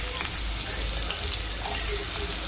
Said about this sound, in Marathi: तेलात कांदा टाकतो